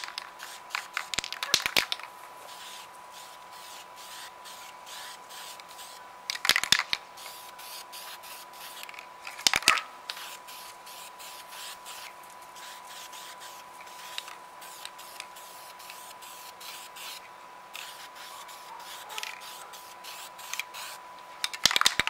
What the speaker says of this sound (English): It's the Krylon Industrial Rust Tough Primer, the red primer. Get a couple test sprays.